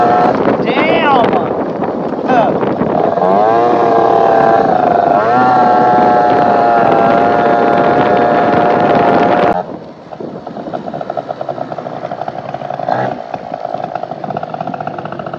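A Vento Triton R4 motorcycle with a 70cc Polini Corsa engine is ridden: a loud, buzzing two-stroke drone rises and falls in pitch with the throttle, mixed with wind buffeting on the microphone, then drops to a rougher, lower note.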